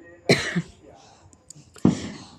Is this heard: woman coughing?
yes